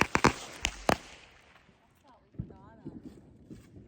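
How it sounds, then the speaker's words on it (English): Fireworks go off on the 4th of July, several sharp cracking bangs in quick succession, then scattered lighter pops, with a voice briefly heard in between. "sorry if firework just went off"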